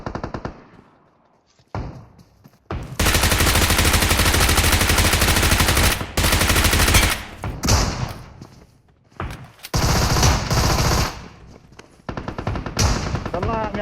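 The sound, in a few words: shotgun gunfire in BGMI video game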